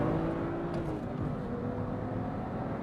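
Inside the cabin of a tuned BMW 1M Coupe with an N54 engine, a steady, droning engine note fills the car under hard acceleration, loud and constant for about three seconds.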